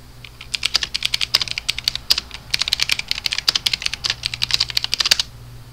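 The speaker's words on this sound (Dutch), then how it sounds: "zitten te typen." Rapid typing on a computer keyboard, dense bursts of clicky keystrokes with brief pauses, close and steady over a low hum, during a Habbo Hotel chat.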